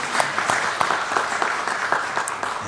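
A church congregation claps steadily in thanks during a Sunday worship service, a dense, even patter of many hands that continues without pause.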